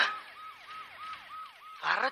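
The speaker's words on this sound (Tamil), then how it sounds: "பேசுறதுக்கே சைரன் அலருது பாரு கேக்குதா" Emergency siren wailing in a repeated rising-falling pattern, about six even cycles at moderate distance, cut off by a louder burst of noise at the end.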